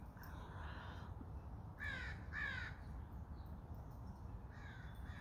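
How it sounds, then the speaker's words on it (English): Crows perched high in a tall tree, roughly 60 to 70 feet up, give a few hoarse caws in a pair of close calls and a later single one, distant over steady outdoor wind rumble. "you can tell by the size of the crows"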